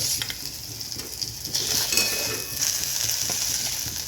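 Okra fries in a pan after being added, giving a continuous bright sizzle with a few faint utensil clinks and stirring scrapes, close and moderately loud, no voices present.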